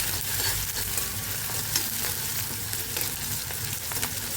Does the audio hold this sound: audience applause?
no